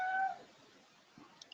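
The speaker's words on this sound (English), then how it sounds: "is that a cat?" Cat meowing faintly in the background during an online meeting, heard as one short, drawn-out meow at the start followed by quieter small sounds.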